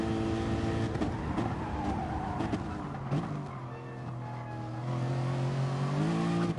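Ferrari and Lexus race cars at the Nurburg GP circuit in a racing game, engines droning steadily with rising and falling harmonic pitch as gears shift, loud and close throughout.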